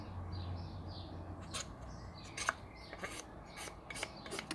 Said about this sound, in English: the first thing is to scrape the paint off.